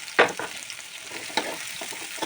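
Spring onion bulbs fry lightly in a pan with a soft, continuous sizzle broken by a few sharper crackles and stirring scrapes, all quiet and close.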